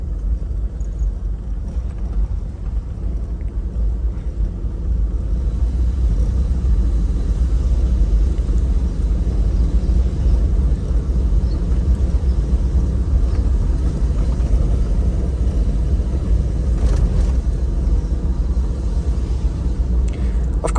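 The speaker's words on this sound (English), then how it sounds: "proper rumble of the engine" Petrol 4.5-litre 1FZ-FE engine in an old Toyota Land Cruiser idling with a steady, deep low rumble that stays close and even throughout, with no talk over it.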